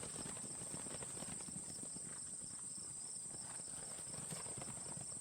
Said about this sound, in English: the stallion snorted loudly and bolted, leading the herd in a gallop toward the hills